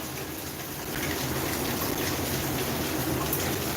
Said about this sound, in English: Even outside it's flooded. It's very heavy rain.